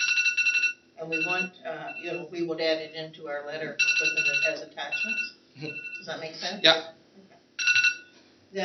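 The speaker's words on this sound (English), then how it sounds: "That was my phone." A mobile phone rings through a council meeting, its repeating electronic ring tone pulsing in regular bursts beneath steady conversation.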